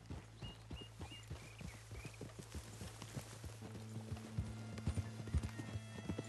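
Horse hooves in Red Dead Redemption 2 clip-clop steadily at a walking pace, close and fairly faint, with a snort and small tack rattles mixed in.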